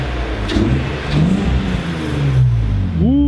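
A BMW E36 engine idles and revs steadily right after a jump start, a continuous close mechanical drone with rising rev sweeps near the end.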